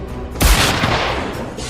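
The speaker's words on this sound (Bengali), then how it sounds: "ওইদিকে গুলির আওয়াজ হলো" A single loud gunshot-style blast cracks out near the start of a comedic detective skit, followed by a sustained noisy roar and rumble that slowly tapers off.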